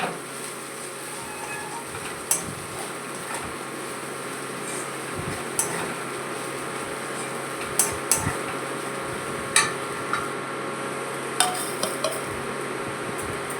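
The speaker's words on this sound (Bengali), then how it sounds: "খুব ভালো করে মিশিয়ে নিব একটু সময় নিয়ে" Flattened rice pulao stirred in a pan over a lowered gas flame, with a steady soft hiss and scattered sharp clinks of a spoon against the pan at irregular intervals, close and moderately quiet.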